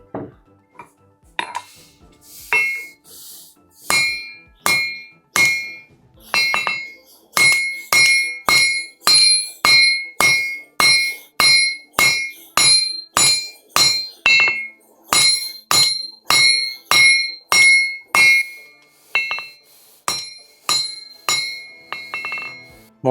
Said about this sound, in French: Je reprends l'autre marteau.